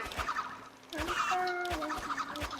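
A chicken in the Roblox game Rune Slayer clucks in a quick, repeated series of short, clear clucks, close and alone without any talking.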